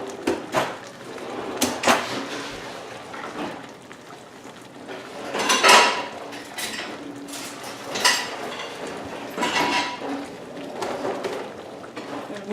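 Pasta being stirred into red sauce with a utensil in a bowl makes intermittent clinks, scrapes and soft wet knocks, close by, in irregular bursts.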